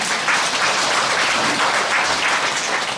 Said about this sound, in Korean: 말띠에도 힘찬 박수 한번 쳐주세요.